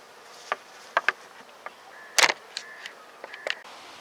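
Honeybees buzzing at a small hive in short, scattered bursts close by, with brief louder passes over a faint steady background.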